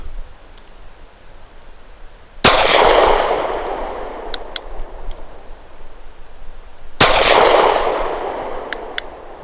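Two sharp pistol shots from a KelTec PF-9 firing Browning BPT 147-grain subsonic ammunition, each a loud crack followed by a decaying outdoor echo, spaced several seconds apart.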